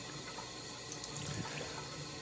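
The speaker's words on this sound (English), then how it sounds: "wash it under hot water with some hand soap" Hot water runs steadily from a tap while a microphone's foam insert is washed, a faint, even hiss and splash with no voices.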